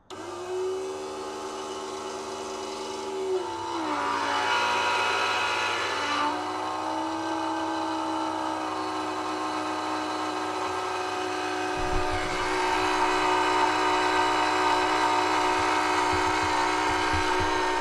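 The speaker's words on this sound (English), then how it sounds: "it's a bit noisy when the motor's running, but we're going to turn it on now and leave it running" A diesel fuel polishing pump motor runs steadily on a sailing boat, giving a loud, continuous motor drone with a shifting pitch.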